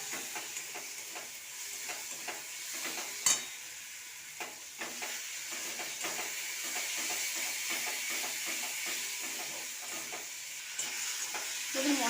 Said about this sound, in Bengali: এইবার ভালো করে মশলাটাকে আবার কষিয়ে নেব।